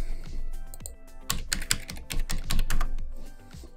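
Rapid clicks of a computer keyboard being typed on at close range, a short isolated tap first, then a dense burst of keystrokes with uneven rhythm, alone without talking.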